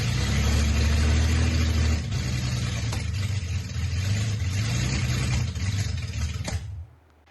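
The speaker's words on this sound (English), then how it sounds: "now that the engine has started" A 1972 Datsun 240Z series 2 engine runs loudly and steadily, idling with a low rumble and slight shifts in revs, before cutting off abruptly near the end.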